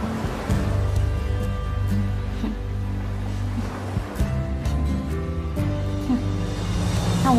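Sea waves roaring through a gifted seashell held to the ear, a steady broadband wash with soft swells rising and falling for several seconds, no voices.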